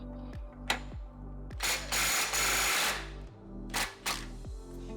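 An impact gun tightens a shaft nut on a Camaro rear hub, sounding as a string of short loud rattling bursts with brief pauses between them, close and alone.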